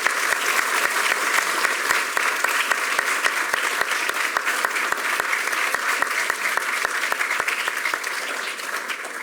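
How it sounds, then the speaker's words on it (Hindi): A crowd at a Yoga Day celebration applauds to welcome a yoga guru, with steady, full clapping from many hands and sharp individual claps standing out throughout before it eases slightly at the end. "उनके लिए मैं चाहूँगा कि उनके स्वागत में बहुत सी तालियां बजाएं।"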